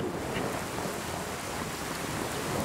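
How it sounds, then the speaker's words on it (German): Steady rain in the Fallout 4 VR game world, a dense, even hiss of falling water with no talk, holding at a constant level throughout. "Okay, es regnet."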